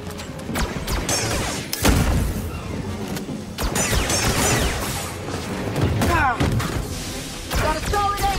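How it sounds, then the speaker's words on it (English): A flashbang grenade detonates amid chaotic combat in Star Wars Jedi: Fallen Order, with heavy thuds, crashes and a loud low boom mixed with dense battle noise, shouted voices and clashing sounds throughout. "Flashbang out!"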